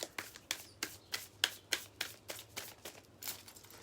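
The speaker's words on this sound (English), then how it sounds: "Let's shuffle it up." Tarot cards being shuffled, a quick run of crisp riffling slaps in a steady rhythm, close and fairly soft, with a faint low hum beneath.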